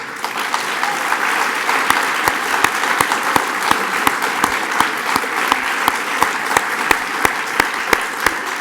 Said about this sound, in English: So I would just like to give her a big round of applause.